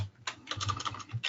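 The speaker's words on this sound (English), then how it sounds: "Sorry about the typing noise in the background there." Rapid keystrokes clatter on a computer keyboard, a brief close burst of uneven clicks with a short pause near the start.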